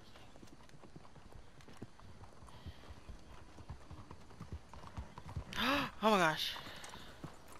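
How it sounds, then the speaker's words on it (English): Horse hooves clip-clop steadily through the streets of Saint Denis in Red Dead Redemption 2, with a loud whinny near the end, while a player talks over the game sound. "My horse doesn't know which direction to take."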